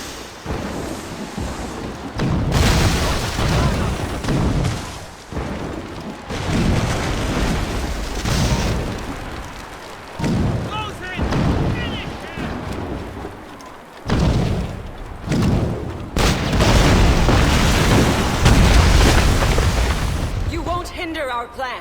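Heavy cannon volleys from sailing warships in the Assassin's Creed Rogue video game, booming repeatedly at close range amid loud rumbling battle noise, with shouted voices mixed in.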